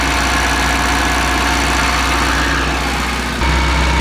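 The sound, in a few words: Żuk engine idling with bearing noise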